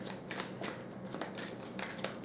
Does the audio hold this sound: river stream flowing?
no